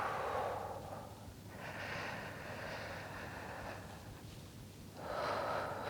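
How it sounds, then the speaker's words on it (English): Slow, deep breaths drawn in and pushed out in a controlled rhythm, about two long inhale–exhale cycles close to the microphone, airy and unhurried with no talking. "You want to inhale deeply and exhale deeply."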